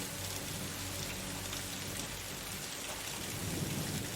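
A thunderstorm with heavy, steady rain pours down in a dense, constant hiss, and low thunder rumbles underneath without a break.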